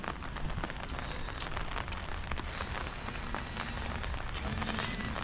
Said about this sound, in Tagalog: walang tigil yung pag-ulan at saka yung pag-ambon ngayong araw